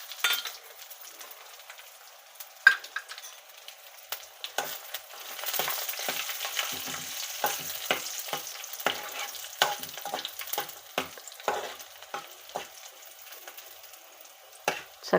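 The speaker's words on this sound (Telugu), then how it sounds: "చక్కగా ఏగుతున్నాయండి" Cumin, mustard seeds and dry red chillies fry in hot oil with a light crackling sizzle, broken by repeated close scrapes and taps of a stirring spoon.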